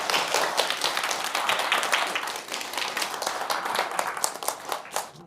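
Sustained applause from an audience at a humanities lecture on slow aging at a senior welfare center in Gwangju, welcoming the lecturer: dense, continuous clapping with a few sharper claps near the end.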